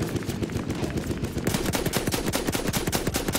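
Rapid bursts of automatic gunfire from the World War I shooter Battlefield 1 rattle close and loud, dense overlapping shots forming a continuous fusillade that grows heavier partway through.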